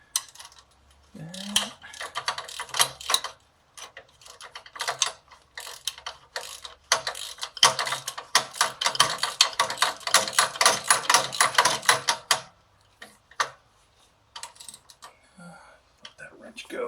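A hand socket ratchet tightens the front engine mount bolt on a 2008 Harley-Davidson Dyna Super Glide, giving bursts of rapid close clicking strokes that build to a dense run of clicks before stopping.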